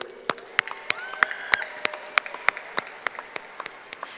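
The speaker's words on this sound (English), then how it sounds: "And while we're in the clapping mood" Scattered applause at a high school commencement ceremony: irregular, sharp hand claps from a small audience, moderately loud, with no talking.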